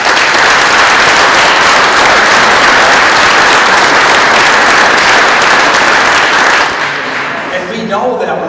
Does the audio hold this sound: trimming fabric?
no